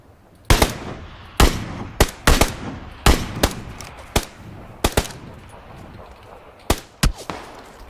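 Gunfire in a video game: sharp, loud shots come in scattered single cracks and short double bursts across several seconds over a low background hum.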